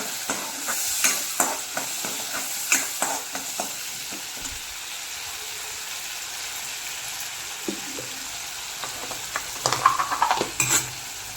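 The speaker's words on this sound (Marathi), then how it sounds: "याच्यामध्ये आपण घालू हे वाटण आपण याला हलवून घेऊ" Masala paste stirred into a sizzling brinjal curry pan: a soft frying hiss under repeated scraping strokes of a spoon, quieter in the middle and busier again toward the end.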